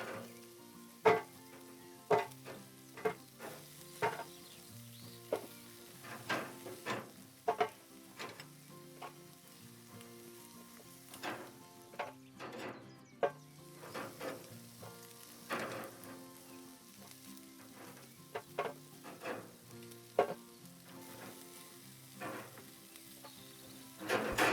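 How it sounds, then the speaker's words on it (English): Chicken wings deep frying in hot oil, a steady soft sizzle dotted with sharp irregular pops and spatters throughout, fairly quiet and with no talking. "we're gonna fry them for a couple of minutes"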